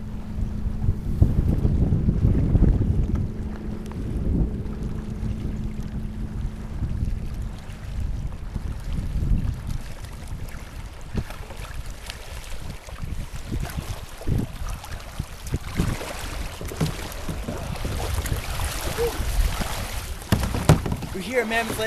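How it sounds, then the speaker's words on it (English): A small kayak sits out in the middle of Mammoth Lakes, with water lapping and sloshing against the hull under steady, loud wind buffeting the microphone throughout. "Just got dropped off out in the middle of the lake with my little kayak here."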